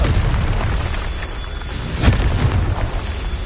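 A Confringo spell blast from Hogwarts Legacy, heard as a deep booming explosion with a rumbling burst that swells midway through a noisy, sustained game mix.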